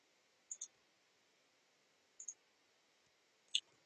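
Computer mouse clicks while drawing straight lines in Illustrator: three quick pairs of faint, crisp clicks, spaced about 1.5 seconds apart in an otherwise quiet room.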